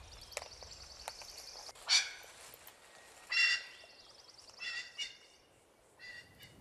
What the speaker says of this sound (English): That is a very colorful bird that's also very noisy.